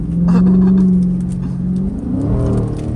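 A 2006 Dodge Charger R/T V6 engine revs up close and loud, its tone rising and then dipping as it downshifts, with no talking.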